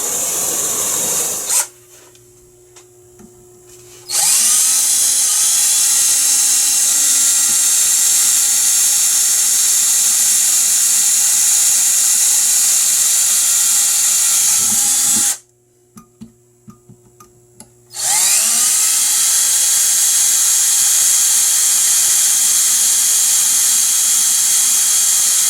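A power drill whines loudly and steadily while boring two holes in a metal part of a caulking gun, stopping twice with brief quiet pauses and faint taps before starting up again at full speed.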